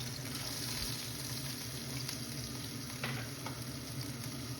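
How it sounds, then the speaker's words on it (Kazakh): Finely chopped onions fry in vegetable oil over a medium gas flame while being stirred, giving a steady soft sizzle with faint scraping, quiet and continuous with no talking. "осы сұйық майымызға ұсақтап туралған пиязымызды қуыратын боламыз"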